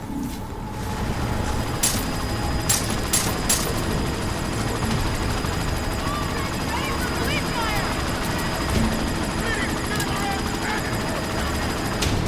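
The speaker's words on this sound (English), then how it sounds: "You've got to stop that chopper." A helicopter in the Deus Ex: Mankind Divided video game keeps up a loud, continuous rotor roar, with a few sharp bursts early on and voices mixed into the din.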